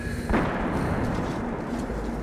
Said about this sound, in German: Wieder ein Schuss von Bourbon